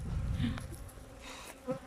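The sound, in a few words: bees buzzing around beekeeper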